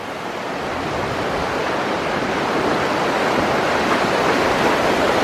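Floodwater from the Skookumchuck River rushing around a brick house on a street in Centralia, Washington, a dense, continuous roar of flowing water, close and loud, swelling slightly and holding steady with no voices.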